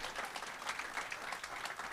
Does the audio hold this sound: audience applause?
yes